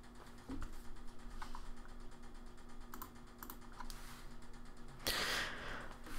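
Quiet keys clatter on a computer keyboard in short, uneven bursts, with a louder flurry of typing near the end; no one speaks.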